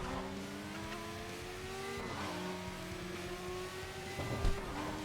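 A K car fitted with a swapped B10 engine revs in a racing video game, a steady high-pitched engine whine that rises and falls through several gear changes, with a brief louder burst near the end.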